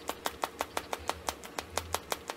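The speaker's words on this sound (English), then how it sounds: "When you tap your foot on the floor," A foot taps on the floor in a steady, even rhythm, about six sharp taps a second, close and clear with nothing else heard.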